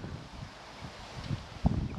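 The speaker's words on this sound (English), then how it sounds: "as you can see, it's quite windy today again" Wind blowing outdoors at Avebury stone circle, a steady breathy rush with low gusty buffeting on the microphone that grows stronger toward the end.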